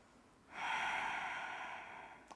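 One long, soft exhale through the nose during a restorative yoga posture, rising gently and fading slowly in a quiet room, followed by a tiny click.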